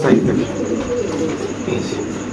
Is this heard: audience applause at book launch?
no